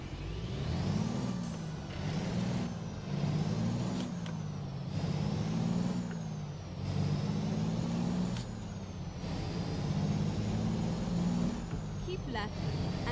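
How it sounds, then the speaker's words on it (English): A heavy truck's engine brake in American Truck Simulator drones loudly in repeated surging pulses, the low rumbling engine note rising and falling over several seconds, with someone talking over it. "Let's turn on the Jake brake."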